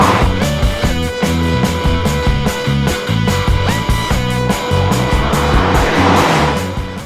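A 2015 Subaru WRX being driven hard, its engine loud and close as it revs up and down through repeated gear changes, with a brief tire squeal near the end.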